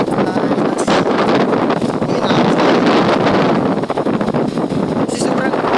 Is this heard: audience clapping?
no